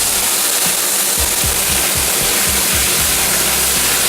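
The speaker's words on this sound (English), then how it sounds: "Just the combustion of the alcohol and the water cooking off." White wine flames off in a hot pasta pan, giving a loud, continuous rushing roar with a few low popping bursts near the start.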